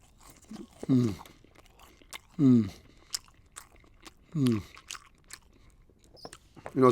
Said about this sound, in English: Let me have a bite of this.